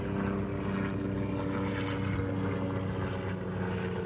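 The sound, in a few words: airplane and helicopter flying overhead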